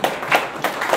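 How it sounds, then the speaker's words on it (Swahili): Scattered clapping at a Tanzanian government minister's address, a few sharp hand claps in quick bursts, brief and moderately close. "tumpigie makofi mengi sana kwa kitu ambacho amefanya"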